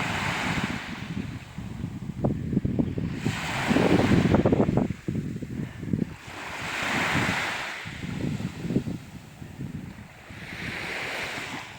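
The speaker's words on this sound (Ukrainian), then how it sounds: "Яке море." Sea waves roll onto an empty beach in Italy, surges swelling and fading in slow cycles while gusts of wind buffet the microphone.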